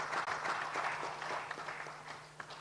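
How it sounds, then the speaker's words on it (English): Audience applause at a World PR Day celebration event in Ghana, a soft, distant patter of clapping that gradually thins toward the end, with a steady hum underneath. "Please, with a round of applause, help me welcome on stage Emma Onani."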